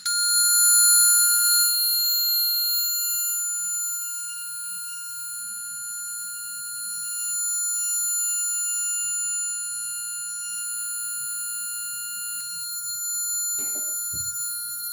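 A steady 1,400 Hz electronic tone from a loudspeaker pointed at an anemometer, a pure continuous whine with faint harmonics, holding unbroken for about thirteen seconds before cutting off into a brief low handling thump.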